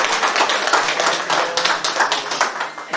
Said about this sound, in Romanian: Să-i felicităm, să-i aplaudăm